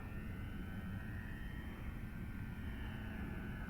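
A Dynam Waco RC model biplane flies overhead, its electric motor giving a steady, even drone throughout with no voices.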